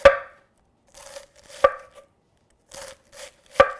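A knife slices cabbage for minestrone soup on a cutting board, giving three sharp close knocks spaced about 1.6 seconds apart, with softer rustling scrapes of leaves between them.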